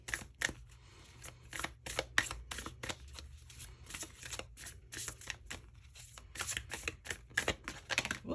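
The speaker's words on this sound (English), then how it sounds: "Let's pull like a little advice card for him out of these." Large tarot cards are shuffled and drawn close up, a quick irregular run of crisp riffling slaps and flicks with short pauses between bursts.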